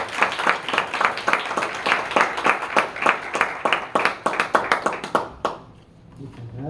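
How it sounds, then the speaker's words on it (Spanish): An audience at a youth leadership dialogue event gives a burst of loud, rhythmic clapping that lasts several seconds before abruptly dying away. "Fuertes palmas, por favor."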